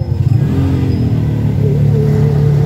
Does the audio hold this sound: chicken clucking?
no